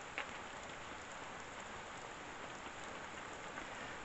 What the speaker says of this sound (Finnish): Tämäkin sade on oikein hyvä.